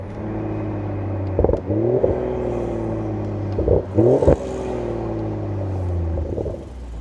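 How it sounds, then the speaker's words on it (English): A BMW X3 M40i exhaust idles with a deep, steady rumble, then is revved in several sharp blips that rise and fall back, loud and close, with no talking. "Let me know what you think about the exhaust."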